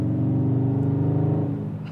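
A 2020 Dodge Charger R/T Scat Pack Widebody engine pulls hard through a corner, a steady loud low drone from close by that eases slightly near the end, with no talk over it.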